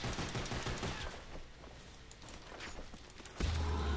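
Rapid bursts of gunfire from the Call of Duty Black Ops zombies map Der Riese play as a steady crackling stream of shots, loud and continuous with no talking.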